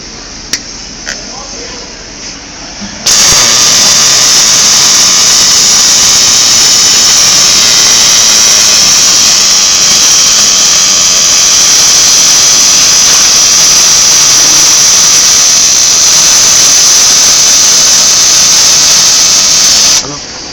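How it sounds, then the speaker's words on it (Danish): Gas-shielded welding arc, a loud steady crackling hiss that starts abruptly after a few seconds of quiet and runs unbroken for about seventeen seconds before cutting off. "Nu vil vi vise hvordan vi svejser med og uden gas."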